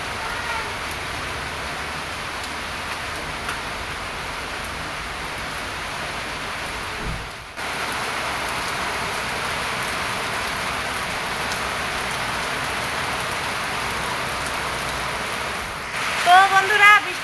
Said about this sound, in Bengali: তো বন্ধুরা, বৃষ্টি শুরু হয়ে গেছে এদিকে